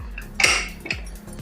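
A pressure cooker lid is set on and closed over tomato pieces and water, giving two sharp metallic clanks about half a second apart, close and fairly loud, with no talking.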